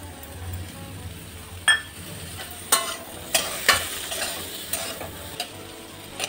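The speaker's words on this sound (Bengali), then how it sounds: "এখন দিয়ে দেব এই টমাটোর কুচি।" Chopped tomatoes going into a frying pan with ginger and stirred for a Bengali potato and fenugreek-leaf curry: a low sizzle with several sharp clinks and scrapes of a spoon against the pan, close by, no talking.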